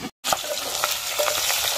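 Fatty black pork frying in a seventy-year-old antique pot, a steady crackling sizzle with scattered pops after a brief silent gap at the start, close and loud with no talking.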